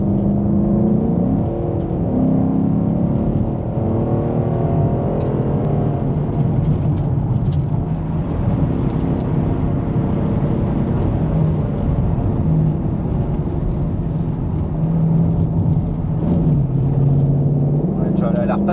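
A Ford Mustang GT/CS with an automatic gearbox drives along, its engine droning loud and steady with pitch rising and dropping as gears change, while people talk over the engine noise inside the car.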